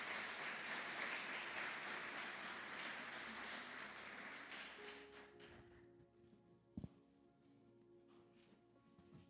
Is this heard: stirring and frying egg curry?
no